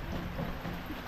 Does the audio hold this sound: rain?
yes